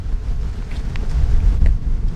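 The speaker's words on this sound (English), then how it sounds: "Y'all see how windy it is?" Strong wind buffets the microphone outdoors, a steady low rumble swelling and gusting across the whole stretch with no voices.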